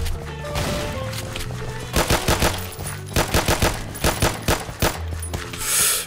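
Rapid bursts of video-game gunfire from Minecraft with a Doom mod: clusters of sharp machine-gun shots fired in quick repeated volleys, loud and punchy, over a low droning game soundtrack.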